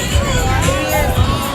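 A crowd murmurs and chatters steadily at Coney Island beach on a Friday fireworks night, with a couple of muffled thumps in the babble.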